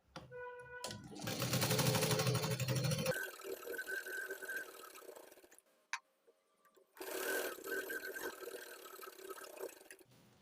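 An overlock sewing machine runs in fast bursts of stitching, a steady dense whir for a few seconds, a pause, then another run, close and fairly loud.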